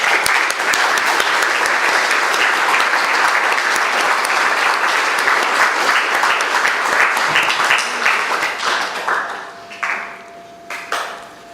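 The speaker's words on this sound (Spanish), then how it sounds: "Vamos a dar un aplauso a estos valientes hermanos" Applause for a pair of brothers at a Spanish-language church testimony service, a dense sustained round of clapping from the congregation that thins out and fades near the end.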